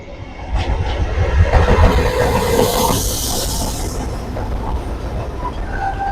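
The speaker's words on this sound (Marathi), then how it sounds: "इकडे ट्रेन आता विश्रामबाग रेल्वे स्टेशनवरून जात आहे" A diesel-hauled train rolls through Vishrambag railway station, a loud, close rumble with wheel clatter that swells over the first seconds and then eases into a steady roar, no voices heard.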